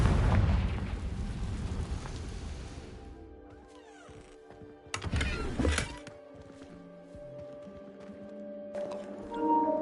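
Confringo spell blasts in a Hogwarts video game land as deep, booming explosions: a big rumbling burst at the start and a second sharp blast about midway. Quieter magical tones and ambience fill the gaps.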